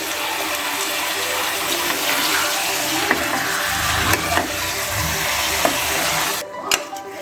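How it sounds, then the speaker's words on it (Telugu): Mutton curry, Telangana style, stirred in a pot with a spoon scraping and a steady wet sizzle throughout, a few sharper clinks near the end, no voices. "దీన్ని కూడా మనం ఒకసారి చక్కగా కలిపేస్తున్నాం."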